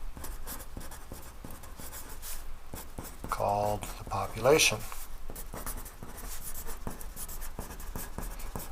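A pencil scratches across paper in short strokes and a quick scribble. The writing stays faint and close under a man's steady speech.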